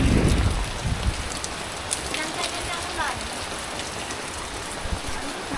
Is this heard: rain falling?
yes